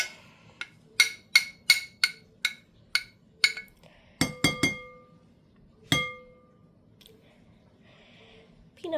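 A spoon knocking against a bowl while mixing peanut butter cookie dough: a quick series of sharp, close clinks, then a few scattered taps with pauses between them.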